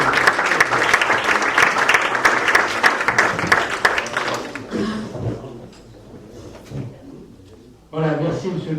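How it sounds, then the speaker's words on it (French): Dense applause from a crowd at a municipal council meeting for several seconds, then it fades into quieter room noise before a brief burst of sound returns near the end. "Je crois qu'on peut applaudir le travail."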